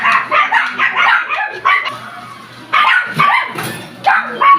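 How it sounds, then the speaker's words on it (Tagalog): Several dogs bark loudly and repeatedly close by during a family dinner, sharp overlapping yaps in irregular bursts with brief whimpering between them. "Naingay, yung mga aso."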